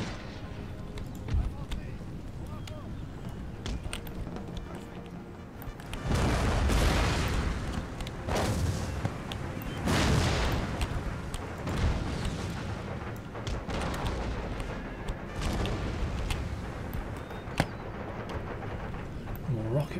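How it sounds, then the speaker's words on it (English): In Empire Total War, cannons fire round shot in heavy booming reports that thud again and again across a battlefield, mixed with crackling musketry and rumble while a voice talks over the action. "These chaps are firing round shots."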